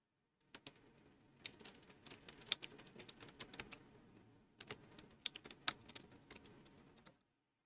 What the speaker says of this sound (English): my keyboard is going crazy